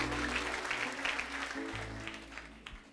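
A church congregation claps together at a prophetic service, a dense, moderately distant patter of many hands, with a low hum and a voice or music underneath throughout.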